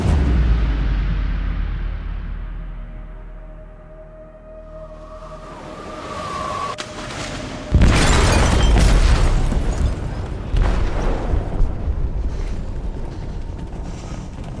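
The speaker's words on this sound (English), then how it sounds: "They detonated an explosive in the hold." An explosive going off in the hold of a ship in Detroit: Become Human, with creaking metal and mechanical rumble building before a sudden loud boom, followed by a long roaring, crackling aftermath.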